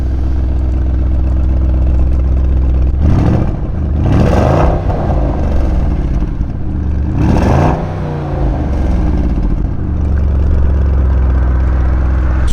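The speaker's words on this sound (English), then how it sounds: "Give it a little rev." A new car's engine idles with a steady low hum, then is revved twice in quick swells that rise and fall back to idle, heard close and loud with no talking.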